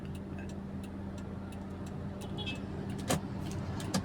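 A manual-transmission car pulls away slowly during a driving lesson as the clutch is gradually let out, its engine a steady low drone inside the cabin with a couple of soft clicks near the end.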